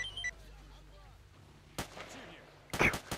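Gunfire in the video game S.T.A.L.K.E.R.: a couple of sharp shot bursts ring out at a moderate distance over a quiet, faint game ambience.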